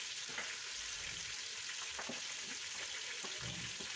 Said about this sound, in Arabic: نقلي كامل مع بعض ونمرق بالماء يكون طابخ